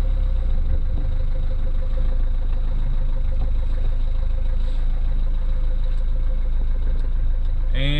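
A classic car's engine runs steadily close by, a low rumbling idle throughout with some knocking texture, as the car is put in gear; a brief higher rising tone appears at the very end.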